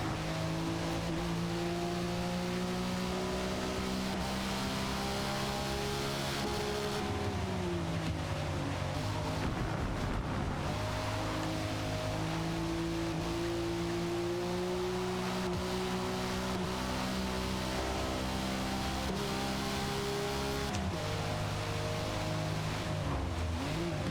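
A race car engine in a racing video game drones steadily, its pitch sweeping down and back up through gear changes and corners, with no talk.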